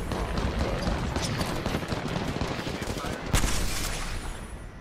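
Rapid bursts of gunfire fill a video game arena match, dense and continuous with a sharper crack near the end, while a player talks quietly underneath.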